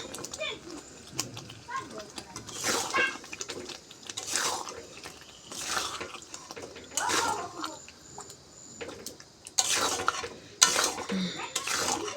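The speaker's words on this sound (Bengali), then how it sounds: "এবার আলুগুলো ভালোভাবে নাড়াচাড়া করে নেব" Potatoes being stirred in a pan for chicken curry, irregular scraping and shuffling strokes in bursts over a low background, with a sharper knock toward the end and some faint talk at times.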